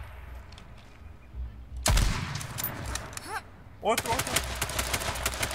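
Gunfire in the battle royale video game H1Z1, with sharp bursts of automatic shots in two rapid volleys and a lull between them, while a player speaks briefly.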